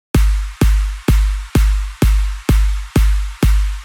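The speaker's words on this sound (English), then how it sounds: "To make the drop extra full we added a fat kick and some drop claps." Fat kick drum layered with drop claps in a progressive house drop, eight evenly spaced punchy hits with deep low thump and bright snappy top, each decaying before the next.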